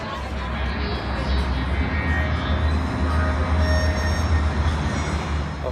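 A train rumbles at a railway station, a steady low mechanical drone with faint wheel and track noise, fairly loud and continuous throughout.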